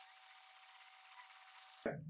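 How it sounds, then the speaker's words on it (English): A power drill spins a screw in its chuck while a hacksaw cuts the screw, giving a steady high whine with a buzzy edge that holds for about two seconds and then cuts off abruptly. "you just put your hacksaw on right up next to the chuck and just start drilling away"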